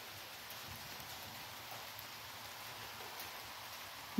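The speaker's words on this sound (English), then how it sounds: "And then the rain begins." Steady, soft rainfall, a continuous even hiss of drops with no other sounds, fairly distant and unchanging throughout.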